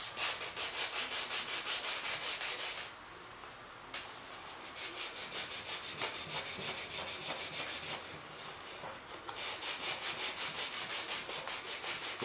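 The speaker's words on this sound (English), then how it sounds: "I got me a little piece of sandpaper glued to that stick" Sandpaper glued to a stick rubs back and forth along a glued seam on a large F-18 model turbine jet, a steady rhythmic scraping close up with a short pause in the middle, no talking.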